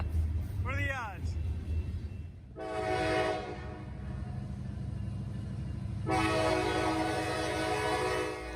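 An EMD diesel locomotive, Norfolk Southern 1068, leads a train past with a deep rumbling engine throb, a short horn toot at the start and two bursts of harsh, bright noise, while someone talks over it.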